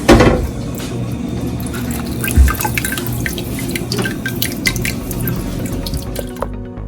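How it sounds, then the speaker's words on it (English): Water poured into a pot of ground chiles and maize for red pozole, a steady splashing and dripping pour that runs continuously up close, with occasional clinks of the vessel. "And we're gonna be adding some of this water."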